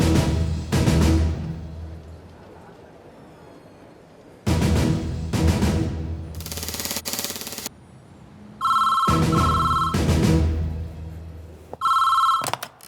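A telephone rings during an emergency call being placed, with repeated electronic ring bursts between loud, dense dramatic film sound effects and music hits, and no speech.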